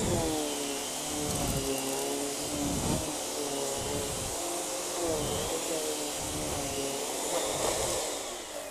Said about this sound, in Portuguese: Ele vai aspirando e vai escovando